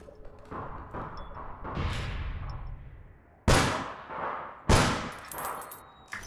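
Gunfire and a grenade blast inside a building in the online shooter APB Reloaded: a few sharp, loud pistol-like cracks with ringing tails, then two heavy close bursts that decay quickly, over a constant low game background.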